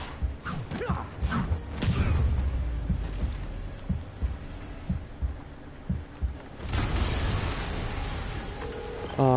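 Explosion in the video game Marvel's Spider-Man: a loud burst with a rumbling tail and scattered debris thuds, followed by a second broad blast later on, under game music and effects.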